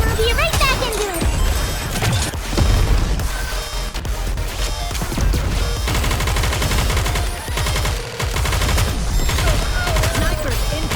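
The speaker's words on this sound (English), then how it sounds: "Immense bombardment." Heavy gunfire pours from a bombardment attack in Goddess of Victory NIKKE, dense rapid bursts and crashing impacts layered over battle music, loud and nearly continuous with brief dips, with character voices calling out over the barrage.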